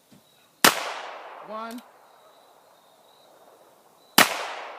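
Two sharp, loud reports from a Ruger Security 6 revolver firing .22 long rifle rounds ring out a few seconds apart outdoors, each decaying quickly, with a brief voice heard between them.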